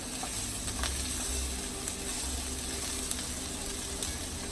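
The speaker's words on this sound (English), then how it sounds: "let that sizzle around a bit" Hatch chilies roast in a pan with a steady, close crackling sizzle and small pops, while stirring scrapes softly underneath.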